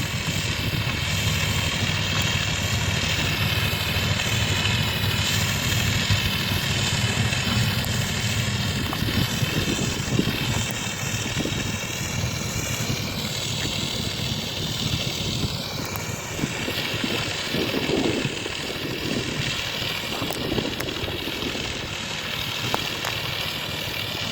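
A tractor-drawn organic fertilizer spreader working a field, its engine droning loud and steady throughout with a constant mechanical whir and rattle, close by and with no voices.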